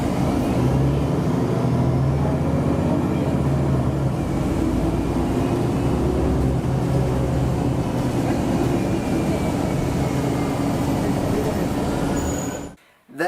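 A 2008 TriMet city bus pulls away with a smooth, fairly quiet engine drone and rising whine heard from on board, holding steady for about twelve seconds before cutting off abruptly.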